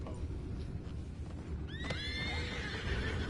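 A horse whinnies once in Red Dead Redemption 2, a high wavering call near the middle, over a steady rumble of ambient game noise.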